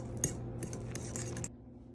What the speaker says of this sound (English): So you're supposed to stir it.